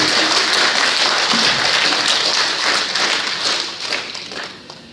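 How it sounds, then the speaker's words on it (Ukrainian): A large room fills with sustained applause, dense and loud, gradually thinning and fading toward the end. "давайте оплесками подякуємо цьому підприємцю"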